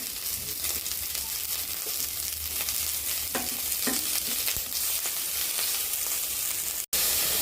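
Curry leaves, green chillies and asafoetida sizzle in hot oil while raw tomato chutney is being made, a steady close crackle and hiss with occasional stirring scrapes and a brief dropout near the end.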